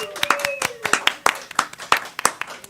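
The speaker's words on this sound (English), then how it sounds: "come on, let's get some claps." Audience clapping at a church Sunday service, a steady run of sharp, loud hand claps in a fairly even rhythm, with a thin background tone and some faint voices mixed in.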